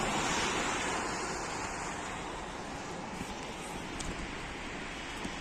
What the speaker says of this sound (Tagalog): Magandang agos ng ilog oh.